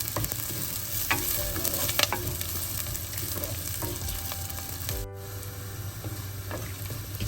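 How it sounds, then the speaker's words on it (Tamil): Onions and green chilies sautéing in a pan, with a steady close sizzle of frying under scattered clicks and scrapes of stirring, and a brief sharp crackle about two-thirds of the way through. "வெங்காயம் வந்து நல்லா பொன்னிறமாக வேற மட்டும் கொஞ்சம் நேரம் வதங்கட்டும்"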